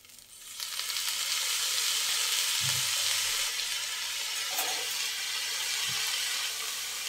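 Soy sauce hits egg chowmein frying in a pan and sets off a sudden, loud, steady sizzle that hisses on close-up, with a couple of soft knocks from stirring.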